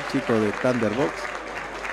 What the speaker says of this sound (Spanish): Aplaude la gente.